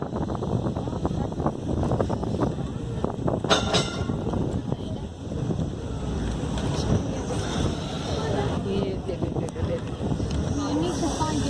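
A four-wheeled heritage tram rumbles and clatters as it runs up the line at Crich Tramway Village, with steady wind and rolling noise throughout and voices talking faintly in the background.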